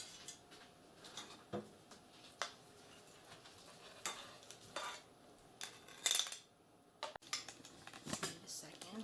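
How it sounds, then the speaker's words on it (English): Silverware clinks and scrapes on dishes while pineapple upside down cake is served and eaten, with scattered sharp taps and rattles at close range amid light background talk. "Gotta get some silverware."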